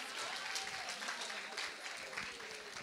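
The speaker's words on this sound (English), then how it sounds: "Keep clapping, amen" A church audience claps steadily through a Christmas service after a scripture reading, a dense, even wash of many hands at close range with faint voices mixed underneath.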